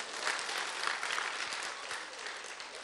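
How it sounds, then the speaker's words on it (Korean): A church audience at an evening evangelism testimony service claps steadily for about three seconds in dense, even applause, with no voices over it. "200명 박수 치고."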